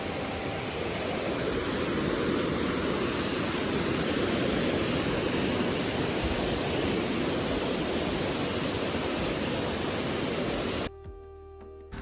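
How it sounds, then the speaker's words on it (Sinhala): A waterfall roars in a loud, unbroken rush heard up close from above the falls, steady throughout before cutting off abruptly near the end. "දැන් අපි ඉන්නේ දියල්ලේ උඩ. වැඩි සද්දෙන්ද ඇහෙන්නේ නැතිවද?"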